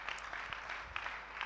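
A church congregation clapping their hands, a quiet, even spread of many claps held for a moment with soft crowd murmur and room echo.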